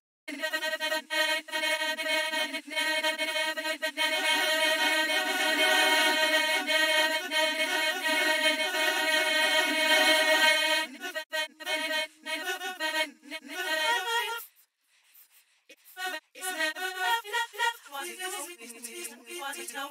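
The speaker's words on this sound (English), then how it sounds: "this is a bit of the choir sample, bit of the gospel choir, put into a plugin called Quanta, which is a granulator, basically" Gospel choir sample chopped through a granulator plugin, dense sustained harmonic chords stuttering into fragmented bursts, dropping briefly to near silence before choppy grains return.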